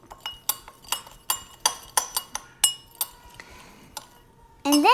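A spoon clinks against a bowl while Chips Ahoy cookie crumbs are stirred, a string of crisp, evenly spaced taps at close range, ending with a brief tonal sound.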